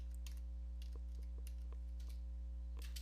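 Soft, quick keystrokes on a computer keyboard, a scattered run of faint taps over a constant low electrical hum.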